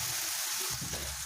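Mushrooms fry in a pan with a soft, steady sizzle and hiss, faint and continuous over a short moment.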